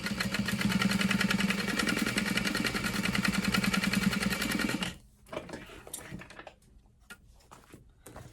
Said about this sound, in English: I'm just gonna sew along this open edge as well